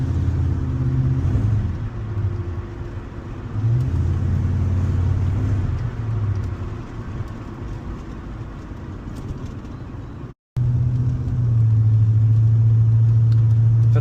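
An HSV VN Commodore SV LE with a 5-litre V8 drives hard, its engine droning low and loud as the tyres spin, rising in surges, cutting out briefly near the end and then returning strong.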